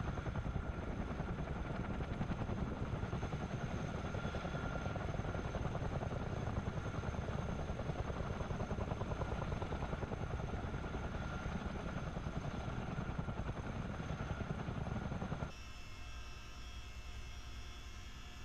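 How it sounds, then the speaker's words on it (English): Steady, loud helicopter rotor and engine drone in Microsoft Flight Simulator 2020, running continuously, dropping to a lower, quieter hum near the end. "this helicopter is absolutely amazing and the easiest helicopter I've flown so far"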